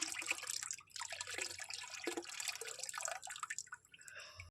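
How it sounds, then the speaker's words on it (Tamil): Liquids poured and stirred together into a mixture, heard close up as faint splashing, dripping and sloshing in uneven bursts. "ஃப்ரெண்ட்ஸ், மறுபடியும் என்னமோ ஊற்றுறாங்க"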